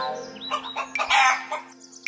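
A chicken clucks and squawks in a few quick bursts, fairly close, with a steady low hum underneath.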